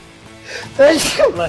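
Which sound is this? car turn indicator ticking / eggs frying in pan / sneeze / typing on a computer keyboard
sneeze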